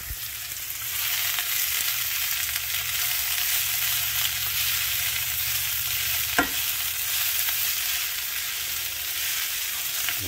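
Pork steak and potatoes fry in a pan with a loud, continuous sizzle, close to the listener. A single sharp knock of a utensil against the pan is heard partway through.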